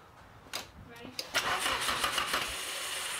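An SR20 engine swapped into a Mazda Miata cranks and fires after sitting unstarted for about a year and a half. Several starter bursts lead into a rough, unsteady run. Excited voices talk over it close by.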